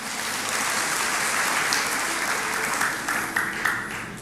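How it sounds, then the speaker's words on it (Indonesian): A church congregation gives loud, sustained applause during a sermon, a dense roar of clapping that holds steady for several seconds. "kasih tepuk tangan untuk Tuhan."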